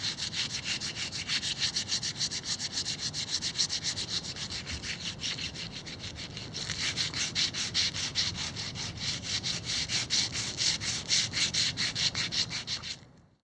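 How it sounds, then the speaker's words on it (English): Continuous rhythmic rasping of sandpaper scrubbed back and forth on a wooden beam patched with wood filler, close and steady, pausing briefly before resuming. "I'm going to do the sanding, my final sanding and painting today."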